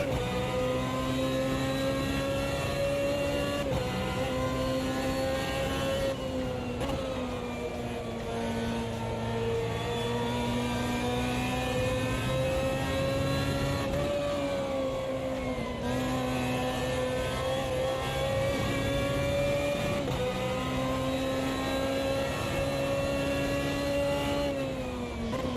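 A BMW race car engine in a sim racing game drones steadily at high revs, with the pitch climbing and then dipping through gear changes and throttle lifts. It runs loud and continuous from start to finish, with no talking.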